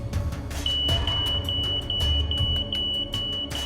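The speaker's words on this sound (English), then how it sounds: "The photoelectric alarm has done its job." A photoelectric smoke alarm goes off in a home, its shrill high-pitched beeping pulsing in a steady rapid rhythm over a low rumbling background, loud and continuous.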